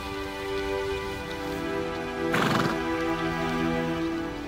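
A horse in a field gives one loud neigh midway, with hooves clip-clopping and a steady humming drone behind it.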